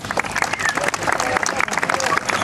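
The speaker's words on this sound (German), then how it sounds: "Applaus." Applause and clapping from an audience at a fairy tale reading, a dense, steady patter of many hands filling the whole moment with crowd murmur mixed in.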